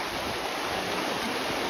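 Fast-flowing river water rushing at Bogamati, a steady, dense, close-up roar of churning current filling the whole moment without pause.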